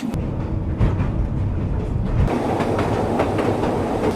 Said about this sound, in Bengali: বাট ন্যারো গজ ট্রেন যাতে পাহাড়ের আঁকাবাঁকা রাস্তা দিয়ে সুন্দর মতো চলতে পারে।